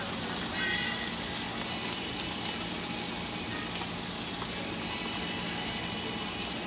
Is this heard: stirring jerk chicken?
yes